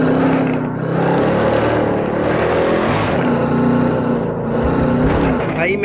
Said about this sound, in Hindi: दहाड़ रहा है भैया गाड़ी